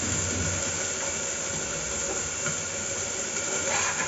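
Vegetables, brinjal among them, sizzle and fry in a hot kadhai, giving a steady loud hiss of oil that runs unbroken and close throughout.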